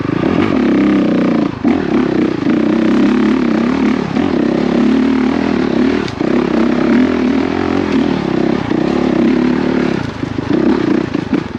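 A Honda CRF450RX dirt bike engine drones loud and close the whole way through, holding a steady throttle with brief dips and surges, and no voices over it.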